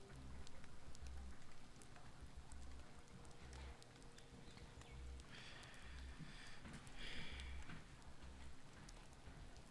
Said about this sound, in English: My Call of Duty is in the background. You can hear the rain.